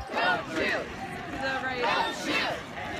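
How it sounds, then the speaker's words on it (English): Large crowd at a street demonstration, many voices shouting and chanting together in overlapping waves, close and loud with rising and falling surges. "It's a very large crowd."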